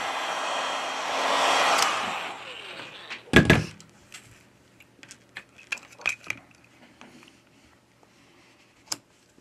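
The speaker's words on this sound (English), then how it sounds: "we apply heat to the device to remove the battery cover" A hair dryer blows heat onto an HTC U11 phone to loosen its battery cover, a steady airy whir that stops, followed by a sharp clatter and scattered small ticks and taps.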